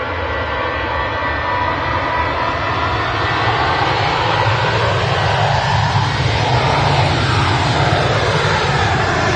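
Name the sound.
Ryanair jet plane passing at Manchester Airport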